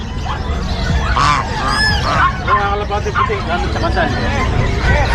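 Geese honking repeatedly in loud, overlapping calls at an animal market in Bocaue, Bulacan, with people chattering and talking nearby throughout.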